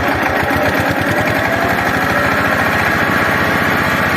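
A tractor engine pulling a plough is revved with the throttle, a loud close diesel chugging with rapid regular firing pulses that quicken slightly as it climbs.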